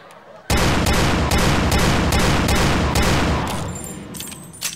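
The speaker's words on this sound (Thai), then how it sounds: "มีเสียงรีโหลด ใช่ เส ีย งกระสุนนะคร ับ ถูกต้องครับโคไพทันครับ" A rapid, loud string of Colt Python revolver shots rings out in a video game, the cracks packed closely together for about three seconds before trailing off into fading echoes and faint mechanical clicks.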